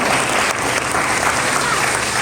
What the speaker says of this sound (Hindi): जोरदार तालियों से सती जी का आभार।